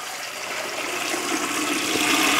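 Cold water pouring steadily into a large stockpot over chicken bones, a continuous rushing splash that builds slightly louder, close and alone.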